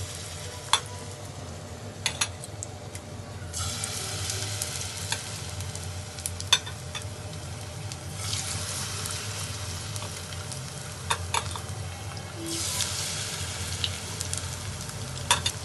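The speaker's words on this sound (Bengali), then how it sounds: "এবার আমি ডিমগুলো বেসনে ডুবিয়ে ভেজে নিব।" Eggs dipped in gram flour batter fry in hot oil, a continuous close sizzle that swells in a few places, with occasional light clicks of a utensil and no speech.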